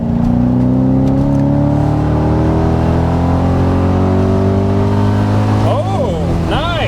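A 2005 Cadillac XLR convertible's engine revs up loudly and accelerates hard, its pitch rising steadily, heard close from inside, before easing off near the end.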